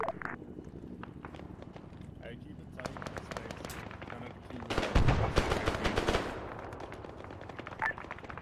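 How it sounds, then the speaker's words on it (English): Distant autocannon fire in the ARMA 3 military game, likely a Bushmaster, heard as bursts of rapid sharp reports, heaviest around the middle, over steady helicopter-like background noise with radio chatter. "Got an audible auto cannon to the west."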